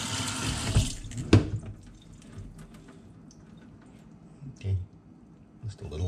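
Water poured from the side onto popcorn shoots, a brief sink-like rush at the start followed by lighter trickles and handling noises, with a person talking over it.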